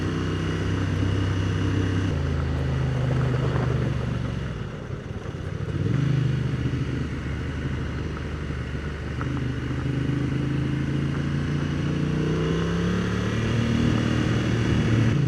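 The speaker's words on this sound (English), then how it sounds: "That's a sweet KLR. I think that's a CRF in front of me too." Motorcycles, a KLR and a CRF, ride along a trail with a steady loud engine drone. Revs rise and fall through gear changes across fifteen seconds, with no talk.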